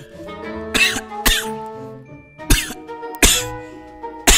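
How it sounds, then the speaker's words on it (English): A person coughs deliberately, giving about five sharp, loud coughs spaced irregularly over a few seconds, with faint tonal background sound in between. "So just start coughing."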